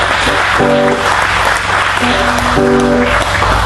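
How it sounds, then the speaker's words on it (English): Audience applause fills a festival tent, a steady dense wash of clapping heard close, with music-like sustained tones sitting underneath. "Please give Richard a warm round of applause"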